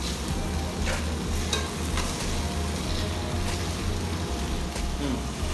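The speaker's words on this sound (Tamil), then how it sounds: "இப்போ தக்காளியும் தேவையான அளவு வதக்கி எடுத்துக்கலாம். ஒரு 2 நிமிஷம் மீதமான சூட்டில் வதக்கி எடுத்துக்கலாம்." Tomatoes sauté in a pan on medium heat for a sardine curry, making a soft, continuous sizzle with repeated scraping stirs close by and no talking.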